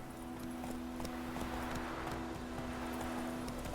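Hoofbeats from Roach, Geralt's horse in The Witcher 3 on Nintendo Switch, clop along at a running pace, faint and steady beneath a low humming drone, with no talking.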